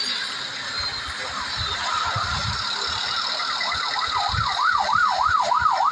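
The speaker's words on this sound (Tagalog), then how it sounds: "Madungog na ang wangwang sa police patrol." A police patrol car siren wails and then switches to a fast warble, growing louder as it approaches over rumbling city road traffic in Cagayan de Oro.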